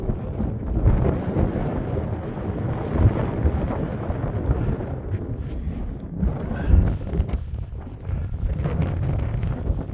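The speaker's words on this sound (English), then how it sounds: "It's really windy up here." Strong wind buffeting on an open mountain summit along a long-distance hiking trail, loud continuous roaring gusts that swell and ease, rumbling against the microphone, with no one talking.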